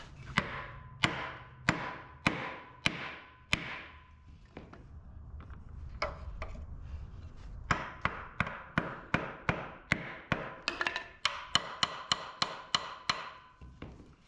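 A pilot bearing is being hammered into the crankshaft of a 1962 Corvair Greenbrier engine. About two dozen sharp metallic taps ring out in steady bursts, with a brief pause midway before quicker, closer-spaced blows finish the job.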